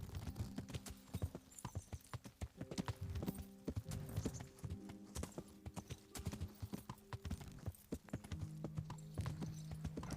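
Horse hooves clip-clop steadily in Kingdom Come: Deliverance, a medieval game, with quick rhythmic strikes over a low ambient bed and a brief whinny, no talk.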